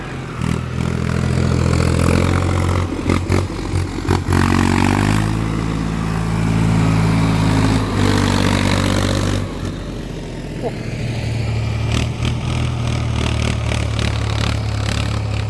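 A loud, rumbling large tractor engine chugs close by, its pitch shifting as it revs up and down, with clanking and rattling over it.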